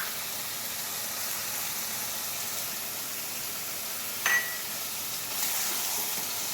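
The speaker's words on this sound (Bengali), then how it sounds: "এখন সসটা দিয়ে দেব, কষানোর মধ্যে সসটা দিলে ভালো হইবে।" Chicken curry frying in a pan gives a steady, soft sizzling hiss throughout, with a brief sharper flare near the middle as sauce goes in.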